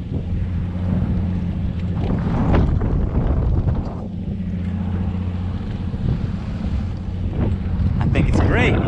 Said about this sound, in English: Motor's been running for a little bit. It's warmed up for sure.